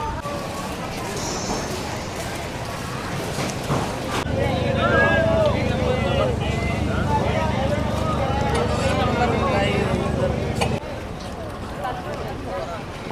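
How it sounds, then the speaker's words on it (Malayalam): A boat heading to Coral Island off Pattaya, Thailand, churns across the water with a steady engine drone and wind rush that grows louder midway, people talking over it. "ബോട്ട് പോകുന്നു, ഇങ്ങനെ കയറും."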